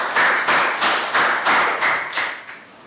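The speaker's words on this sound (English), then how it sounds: "Round of applause." Several separate bursts of clapping, about six in a row with short gaps, like a small class giving a quick round of applause, close and moderately loud.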